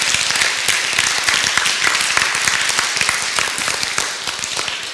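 Church congregation applauds with dense, steady clapping for several seconds, fading slightly toward the end.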